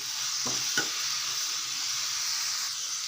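Carrot, coconut and jaggery laddu mixture stirred with ghee in a pan, giving a continuous bright sizzle close by, with two quick scraping strokes of the spoon near the start.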